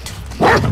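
A dog barks in the game The Last of Us Part 2, a short loud burst of one or two close barks after a quieter moment of background game sound.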